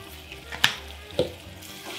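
Vegetables browning in a pan with blackened seasoning for vegan red beans and rice: a low, steady sizzle broken by two brief clinks or stirs.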